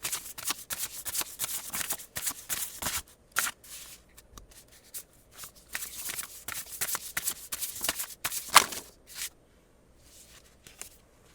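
Tarot cards being shuffled by hand in a steady run of riffling, snapping bursts with brief pauses, close and crisp, with no talking.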